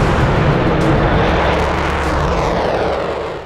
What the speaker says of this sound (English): It's the Vulcan.